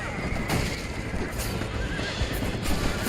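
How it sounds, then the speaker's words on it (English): Horse neighing and whinnying in the Red Dead Redemption video game, with clip-clop hooves running steadily underneath, loud and close, in a busy game soundscape. "Come on, giddy up, horsies!"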